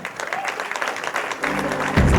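Applause from an audience at a trailer launch event welcoming actor Nana Patekar, a dense burst of clapping that grows louder toward the end, with a voice faintly underneath.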